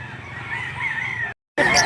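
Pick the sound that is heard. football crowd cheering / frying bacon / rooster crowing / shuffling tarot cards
rooster crowing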